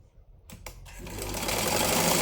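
A sewing machine stitches a blouse lining, starting with a few short bursts and then running into a continuous, steadily louder whir of the needle close by.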